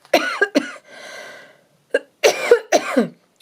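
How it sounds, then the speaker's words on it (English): Several short, harsh coughs close to the mic, coming in quick bursts with a breathy exhale between them. "I can't help just breaking off for a quick cough every time I start speaking"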